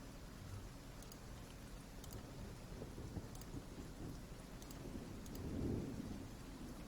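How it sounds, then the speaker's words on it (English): Distant rolling thunder rumbles beneath a steady downpour in the fantasy game Pillars of Eternity, the low roar swelling near the end over continuous rain hiss. "does the sound of rolling thunder just feel soothing?"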